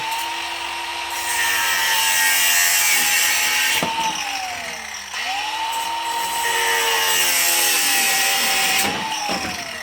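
A power saw cuts plumbing pipe during a tiny home build, its loud, close whine running continuously with pitch dips and bends as the blade bites into the pipe, briefly easing midway before resuming.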